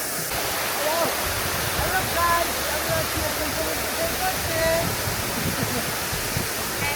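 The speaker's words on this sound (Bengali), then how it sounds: "পানির আওয়াজটা একদম সমুদ্রের ঢেউয়ের মতো মনে হচ্ছে" Rushing water roars continuously like breaking sea waves, a broad steady wash of noise close by with faint voices murmuring underneath.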